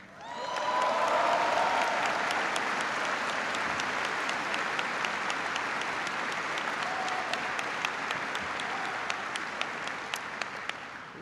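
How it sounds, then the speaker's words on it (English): Large audience of soldiers at Fort Bragg applauding the Ground Forces military band, a dense, sustained roar of clapping that swells quickly and stays loud, with sharp individual claps standing out as it slowly tapers. "give a big round of applause to the Ground Forces Band"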